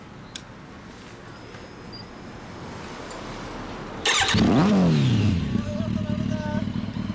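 A 2007 Ducati 1098S superbike with an aftermarket TOCE exhaust idles low, then roars up in a loud rev with a deep, throaty exhaust note that settles back down, with faint talk in the background.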